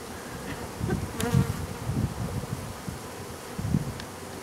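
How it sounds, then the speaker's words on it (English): A swarm of bees flying, a dense continuous insect buzz with swelling, rising and falling droning and occasional louder passes close by, no talking. "You notice how that swarm, they're not flying like they were 5 minutes ago?"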